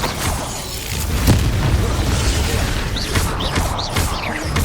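Fiery spell blasts from the Confringo curse in the Hogwarts Legacy video game: repeated booming bursts and crackling impacts over a dense, loud battle din, with chirping magical whooshes near the end.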